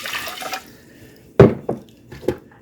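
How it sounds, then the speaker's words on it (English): Two cups of water are poured onto unrinsed brown basmati rice in a pot, giving brief splashy bursts after a quieter start, close and fairly loud. "And I add 2 cups of water."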